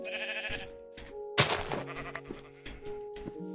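Sheep bleat in a video game during a hardcore survival run, with a few wavering calls over steady game music and a sharp thump partway through.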